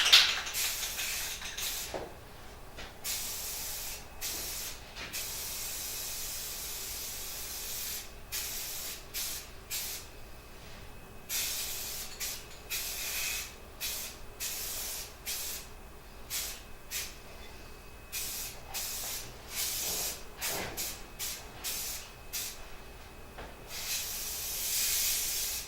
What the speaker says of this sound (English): Now I'm going to primer.